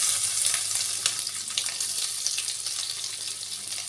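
Ginger garlic paste sizzles loudly in a hot pan for fish curry, a steady bright frying hiss that runs without a break, close and alone with no talk.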